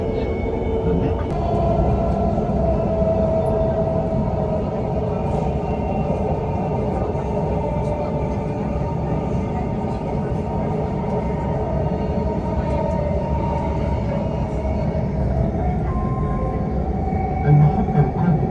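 A metro train runs at speed, filling the whole stretch with a loud, steady rumble and rolling roar from inside the car, broken only by faint higher squeals near the end.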